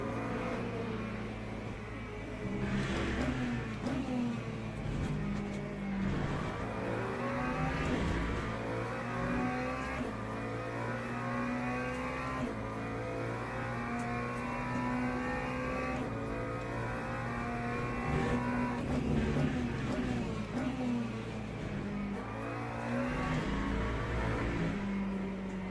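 A McLaren race car engine roars in a racing game at Silverstone, droning steadily near and loud, rising and falling with gear changes and revs across the whole stretch.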